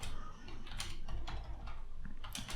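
Computer keyboard typing, a product title being entered: rapid clustered key clicks in short bursts over a dense steady background hum, close and fairly loud, no voices.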